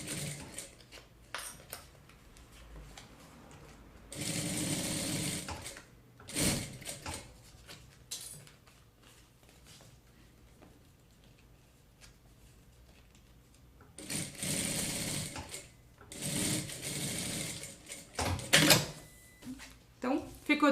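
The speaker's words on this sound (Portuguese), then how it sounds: "E vou passar aqui um pesponto, tá? Vou usar aqui também o meu calcador como base pra fazer esse pesponto." A sewing machine topstitches a crossbody bag in two close bursts of rapid whirring stitching separated by quieter handling sounds, with someone talking at moments.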